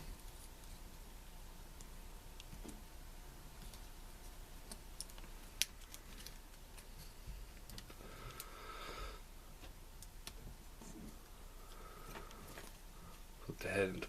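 Plastic parts of a Transformers Slipstream toy click and snap faintly as it is transformed, scattered small taps and clicks across a quiet room with occasional soft breathing.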